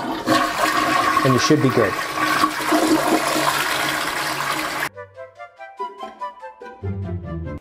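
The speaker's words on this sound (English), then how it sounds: "And then you can flush the toilet" A household toilet flushing after a clog has been cleared: a loud rushing swirl of water that drains and fades out, then someone speaks briefly in a quiet room.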